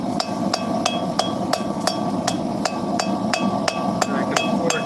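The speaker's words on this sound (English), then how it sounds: "I'm going to set this up against the edge of the end of or the side of the anvil here. And I'm going to forge on the top" Steady hammer blows forging a knife blade on an anvil ring out in an even rhythm, roughly a dozen sharp metallic strikes close by over a low background hum, with no talk.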